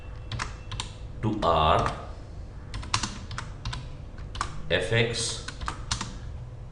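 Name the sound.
typing on a computer keyboard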